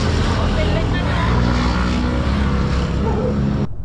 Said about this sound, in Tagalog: Dami nang nagsisidaan na mga motor.